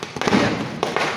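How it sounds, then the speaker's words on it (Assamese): Firecrackers burst during Diwali in Tinsukia on a rainy night, with three or four sharp, close pops in quick succession over a crackling background. "তিনিচুকীয়াৰ দিৱালী আৰু আমাৰ বিশ্ব এতিয়া ফটকা ফুটাব"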